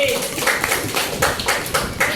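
Fifth-grade classroom children applaud a group in a brisk, rhythmic burst of clapping mixed with chattering voices, loud and close throughout.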